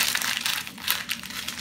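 A sheet of paper is crumpled up by hand close by for a magic trick, a continuous crinkly rustle of irregular crackles with no voice.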